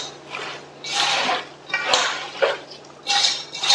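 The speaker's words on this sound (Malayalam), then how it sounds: "എന്നിട്ടത് കൈ കൊണ്ടൊന്നും അങ്ങോട്ട് നല്ലോണം മിക്സ് ചെയ്യുക ഈ കൂട്ട്" Crushed garlic and ginger being mixed by hand into chicken for biryani in a home kitchen, giving soft wet squelching and rubbing in several uneven bursts, close and moderately loud.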